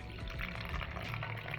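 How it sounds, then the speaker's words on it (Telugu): Water is poured into a bowl holding soaked tamarind, green chillies and raw mango, a short quiet splashing fill heard alone. "వాటర్ పోసి కొంచెం నానబెట్టాలి."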